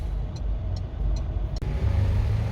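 Cars idling and creeping in a queue of traffic, a steady low engine rumble throughout with a brief thump midway, no one talking.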